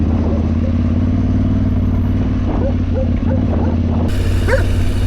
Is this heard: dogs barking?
yes